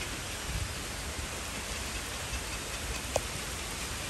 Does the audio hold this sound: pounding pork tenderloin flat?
no